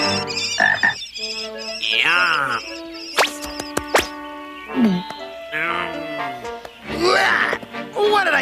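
A frog croaks in a 1989 Legend of Zelda cartoon, with loud, close, warbling croaks repeating among cartoon voices and sound effects.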